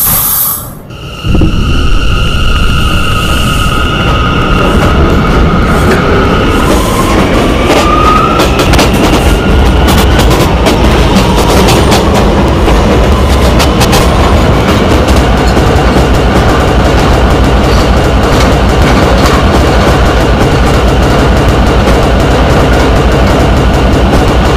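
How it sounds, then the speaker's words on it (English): Steady rumble of an R179 subway car on the E line running at speed, broadband and continuous with a brief tonal whine near the start and rail noise throughout, close and loud, with no talking. "This is a Westwatop bound E train."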